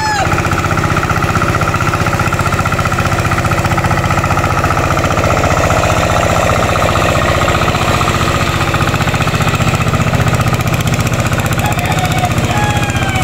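A farm machine's engine drones loudly and steadily in a rice field, with a rough mechanical chugging and faint voices underneath.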